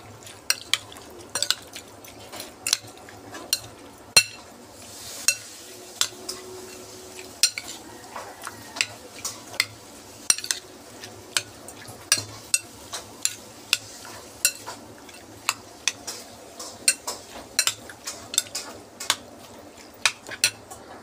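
Spoon stirring anchovy kilawin with calamansi, pepper, chili, onion and ginger in a dish, a steady run of sharp clinks and scrapes repeating every second or so for a long stretch, close and fairly loud with no talk.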